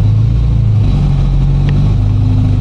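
A Honda Integra DC2 engine idles and revs close by, holding a steady low rumble with a slight rise in pitch, loud and continuous with no talk over it.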